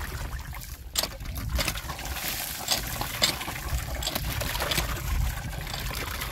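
Water poured over a person splashes and trickles steadily, a continuous wet rushing with occasional louder splashes, close by.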